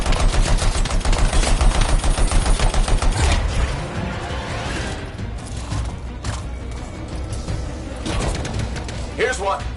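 Rapid automatic gunfire in the video game Anthem, loud bursts of shots for the first few seconds, then continuing combat noise with sporadic shots and effects beneath game voices.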